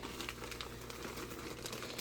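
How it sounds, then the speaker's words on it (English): Plastic bags holding dried sourdough starter crinkle softly and steadily nearby, a faint, continuous rustle with small crackling spikes and no voices over it. "I keep them in plastic bags"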